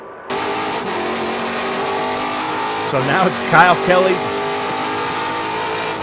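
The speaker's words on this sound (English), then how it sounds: "2 cars left fighting for the last podium position right now in TA2" TA2-class Trans Am race cars at Laguna Seca in 2024, with engines droning steadily and a cluster of sharp revving passes midway, under a commentator's continuous talk.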